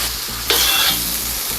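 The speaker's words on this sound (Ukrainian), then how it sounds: "Кожна порція м'яса на високій температурі смажилась по хвилин 5." Meat fries at high heat in a very hot kazan, giving a loud, close, continuous sizzle with a brief bright flare as it is stirred.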